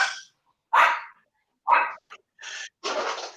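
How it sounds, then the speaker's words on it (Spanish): Small dog barking indoors, a handful of sharp, close yaps spaced irregularly with brief silences between them. "voy a callar el perrito."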